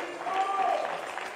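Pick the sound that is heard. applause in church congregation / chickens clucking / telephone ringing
applause in church congregation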